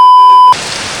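Light drizzle falls at an outdoor fishing and cooking spot in Selangor, a soft, even patter that follows a steady electronic beep tone in the first half second.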